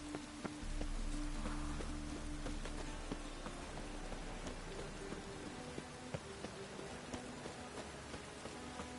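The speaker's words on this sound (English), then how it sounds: "Rain again. Damn mages." Steady rain hiss in The Witcher 3, falling evenly on surfaces throughout with a few soft drips and taps, plus a low continuous rumble underneath and scattered faint game sounds.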